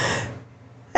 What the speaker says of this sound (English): I'm going to sneeze first.